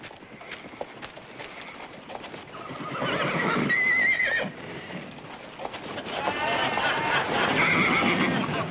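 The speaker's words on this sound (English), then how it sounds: "I'll take care of the horse." At a horse auction, a spirited black horse whinnies loudly and clip-clops on hard ground amid background talk and movement, with a second long neigh toward the end.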